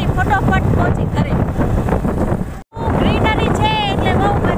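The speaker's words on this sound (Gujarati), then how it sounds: "ઠંડો પવન પણ આવી રહ્યો છે." Cold wind blusters across the microphone on a green rural road near Bhuj, Kutch, with light rain falling, a loud steady roar with a brief dropout while someone talks over it throughout.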